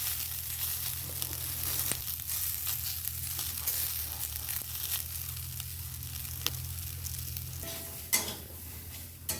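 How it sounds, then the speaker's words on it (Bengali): Two pieces of fish fry in a pan with a steady, close sizzle, broken by a few scraping stirs and crackles near the end. "এই দু পিস মাছের ভাজা"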